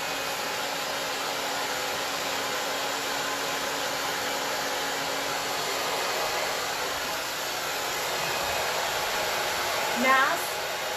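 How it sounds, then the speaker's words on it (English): A hair dryer blows steadily on a freshly painted frame, a loud, even broadband whoosh running throughout with a brief louder swell near the end. "I'm going to just blow dry this a little bit."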